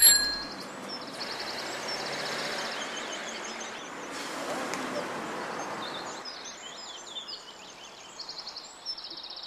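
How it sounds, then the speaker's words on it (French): Bright metallic dings of a postman's bicycle bell ring out in quick repeated bursts over faint background noise and chirping. "le jeune facteur qui fait retentir son insupportable sonnette de vélo"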